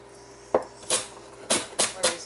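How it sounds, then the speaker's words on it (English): Knife chopping celery on a cutting board for a beef shank soup with pasta and vegetables: five crisp, close chops at uneven intervals, with a faint steady hum underneath. "I'm just going to finish chopping up this celery"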